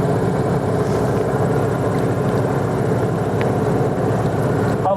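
A motor glider's engine runs steadily while the aircraft taxis, a loud, close propeller drone with a rapid beat and a faint click near the end.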